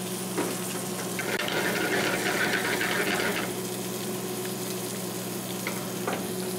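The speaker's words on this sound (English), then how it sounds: "It's hot, it's boiling. In goes the broccoli." Broccoli dropped into a hot pan of boiling water and butter, a steady bubbling sizzle with a brief louder hiss as it goes in, close and continuous, with no talking over it.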